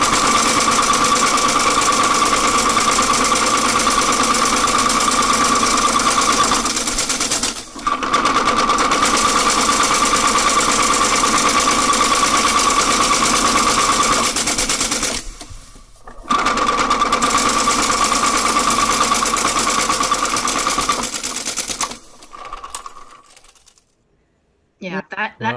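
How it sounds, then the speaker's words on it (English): A sewing machine runs steadily with a dense mechanical whir and hum, loud and close, briefly stopping twice before fading out near the end; no talking over it. "There's one of the sewing machine"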